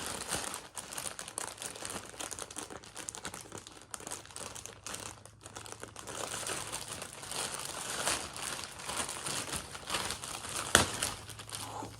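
Plastic packaging around a movie-themed popcorn bucket being ripped open and crumpled, with loud, continuous crinkling, tearing and crunching at close range and no talking.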